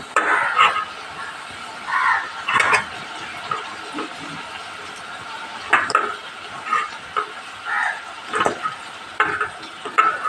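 Masala sautéing in a pan for a banana flower curry, with intermittent scraping stirs over a low sizzle, spaced bursts of spoon-on-pan movement recurring through the stretch, with faint voice-like activity in the background.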